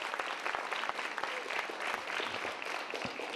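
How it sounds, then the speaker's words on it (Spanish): Theatre audience at a community arts event in New York gives sustained applause, a full, even roar of many people clapping with a few louder individual claps standing out. "Un fuerte aplauso para él"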